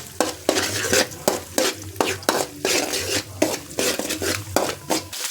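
Eggs frying in a pan, salted, being stirred with repeated scraping strokes of a utensil over a steady close sizzle, no talking.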